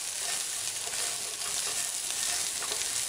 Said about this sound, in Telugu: పసుపు 1/2 టేబుల్ స్పూన్, కారం 1 టేబుల్ స్పూన్ వేసుకొని బాగా కలుపుకోవాలి.